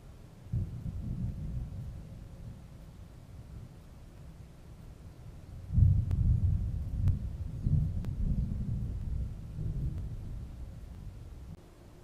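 Deep rolling thunder from a 4 a.m. thunderstorm, two long low rumbles several seconds apart, fairly distant and moderate in level, with no talking.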